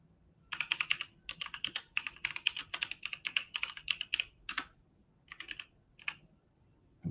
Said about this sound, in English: So I'll go ahead and type that in there.